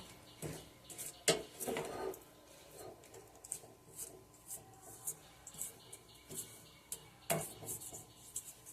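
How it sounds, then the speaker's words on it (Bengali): A spoon stirs a sweet potato sweet mixture in a pot, with quiet, irregular scrapes and a few sharper clinks of metal against the vessel. "এবার আমি একটা চামচ দিয়ে একটু ভালো করে নেড়ে দেব।"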